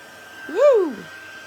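A heat tool blasts air across embossing powder on a handmade birthday card, a single brief whooshing burst that swells and fades within about a second, close and fairly loud.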